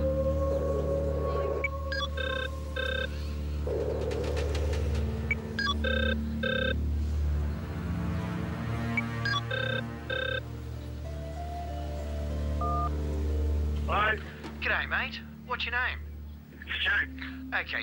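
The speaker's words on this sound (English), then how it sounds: "a ringing phone has to be answered" A telephone rings in repeated short electronic trill bursts over a droning background score, several rings spaced out, and then voices talk near the end.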